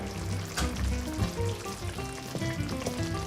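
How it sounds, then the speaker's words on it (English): Cheese slices being stirred into a sauce in a pan for Sicilian pizza, with a steady close sizzle and a few soft scraping strokes of the spoon against the pan. "We give it a last stir."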